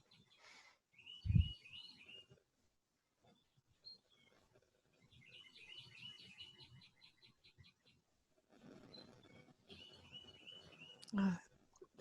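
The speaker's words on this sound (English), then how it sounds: "The birds sound nice." Birds chirp outdoors in repeated short trilling bursts, moderately faint, with a few louder thumps and low background noise between the calls.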